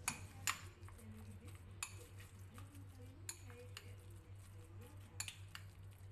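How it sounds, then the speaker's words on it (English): Raw beef is stirred with soy sauce and corn flour in a bowl, giving close, quiet clinks of a utensil against the dish and soft wet squishing at an unhurried pace. "Add 1 heap teaspoon of corn flour and mix well."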